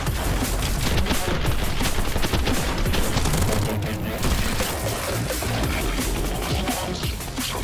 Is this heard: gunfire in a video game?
yes